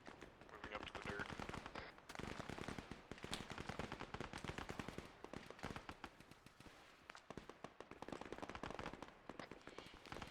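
Dense automatic rifle and machine-gun fire crackles almost nonstop in an ARMA 3 infantry firefight, overlapping bursts near and far, with a voice calling out over the shooting.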